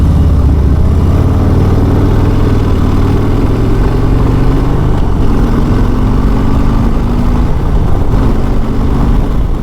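A 2022 Harley-Davidson Heritage Classic motorcycle riding along, a loud, deep, throaty engine drone heard up close, with pitch rising and falling as the throttle is worked, plus rushing wind.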